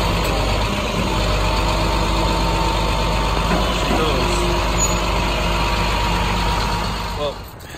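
A tow truck's engine rumbles loudly and steadily up close as it drives off carrying a loaded Infiniti car, then fades slightly near the end.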